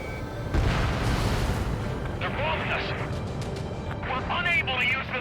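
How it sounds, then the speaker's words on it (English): Bombing explosions in the Ace Combat 7 air combat game, a loud rumbling blast swelling over steady battle noise, with voices talking over the din. "They're bombing us."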